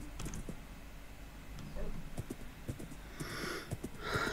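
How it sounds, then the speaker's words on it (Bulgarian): A horse carries its rider away across a bee farm, its hooves clip-clopping in a steady, moderately close rhythm over outdoor background noise, with a few brighter sounds near the end. "Отивам си с коня, защото става по-бързичко."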